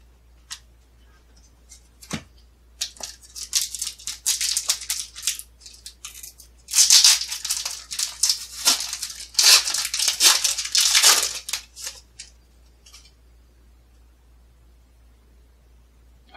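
Stuck-together WCW NWO trading cards are peeled apart in a string of dry tearing and crinkling bursts, sparse at first and then louder and denser through the middle, with no talking.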